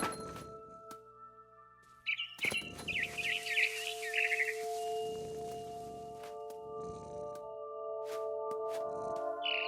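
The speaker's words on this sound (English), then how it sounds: "Then I heard chirping outside my window." A barn swallow in What Remains of Edith Finch gives a few bright chirps amid game ambience, with a steady hum and occasional soft thuds.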